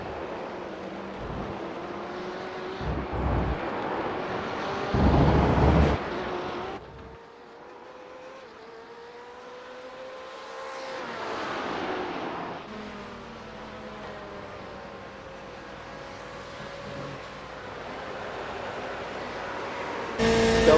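Two BMW race cars dicing for position at Road Atlanta, engines droning steadily with rising and falling pitch through gear changes, with a louder burst of engine noise partway through.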